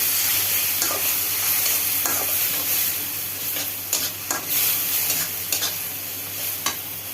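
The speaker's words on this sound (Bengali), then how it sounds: "একটু ভাজা ভাজা করে নিয়ে তারপর একটু পানির ঝোল দিব" Lotka shutki (dried fish) frying with spices in a pan: a steady, dense sizzle with scattered clicks and scrapes of stirring, close and fairly loud throughout.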